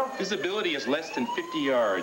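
Ambulance siren arriving at a snowy mountain rescue scene in a TV drama, its wailing tones sweeping up and down beneath a man's steady speech, moderately loud throughout.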